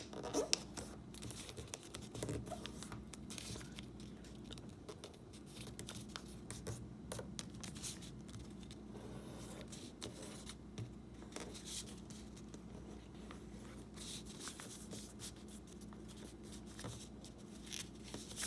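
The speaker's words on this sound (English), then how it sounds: "Now you can flip it over and fold the bottom a bit up like this." Paper being folded by hand into an origami crab, with soft continuous rustling, crinkling and light scratchy creases close up, steady throughout with no talking.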